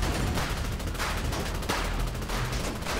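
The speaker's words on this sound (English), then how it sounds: "whoever is shooting out of APC, watch your shot" Sustained rapid gunfire from an armored personnel carrier in GTA 5, loud and continuous bursts filling the whole stretch with heavy low rumble beneath.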